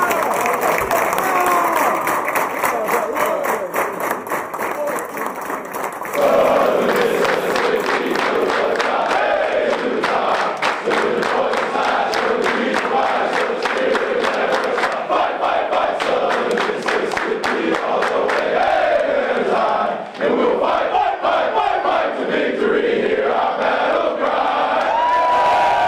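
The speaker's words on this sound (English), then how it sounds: "So let's start clapping this thing up." A big crowd claps, cheers and whoops in celebration after a Southern Miss Golden Eagles football win in 2017. The noise is loud and sustained, with steady applause and shouting throughout and a brief dip near the end.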